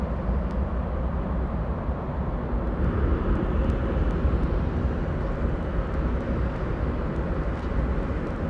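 Jet aircraft departing and arriving at London Heathrow Airport produce a steady, loud, continuous engine roar with no gaps, as outbound jets pass close overhead.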